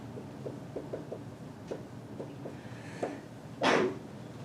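A few soft clicks and breaths, then a single sharp, bright sneeze bursts out near the end, close and fairly loud.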